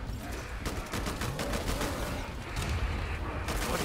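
Rapid machine gun fire rattles in the video game Killing Floor 2, dense continuous bursts mixed with heavy booms, loud and sustained throughout.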